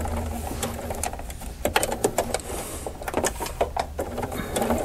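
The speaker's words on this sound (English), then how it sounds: "I've been sewing my tie and I'm approaching the mask." A sewing machine stitching a face mask tie runs in quick bursts of rapid mechanical clatter, pausing and restarting several times, close and fairly quiet with no talk.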